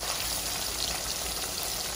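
Thresher shark sizzles steadily in a hot pan, a constant crackling hiss with no voices.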